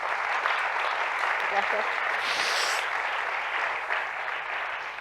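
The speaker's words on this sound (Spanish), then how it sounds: "Otro aplauso, por favor, para los dos." Audience applause for two speakers at an awards colloquium, a steady dense wash of clapping throughout with a voice briefly speaking over it.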